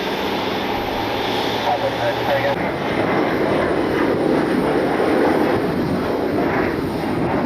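Alaska Airlines Boeing 737-800 jet seen from an airport in Cleveland, a loud continuous engine roar and rumble that swells in the second half, close and filling the whole stretch without pause.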